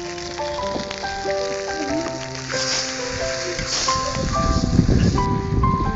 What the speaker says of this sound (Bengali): এখন দিয়ে দিব কিছুটা পানি।